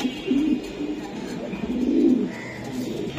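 A racing pigeon cooing close by in repeated low throaty rolls among other birds at a pigeon club, with a voice talking softly in the background.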